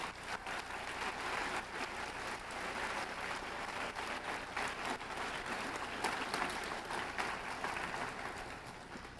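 Dense applause from an audience at a middle school science bowl championship, honoring volunteers; steady, full clapping that holds at an even level for several seconds without talk.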